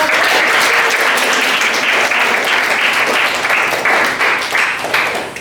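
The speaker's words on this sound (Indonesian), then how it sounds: "Kita beri tepuk tangan." A classroom of students gives a round of applause after a correct answer, loud and close, sustained clapping from many hands that tapers slightly toward the end.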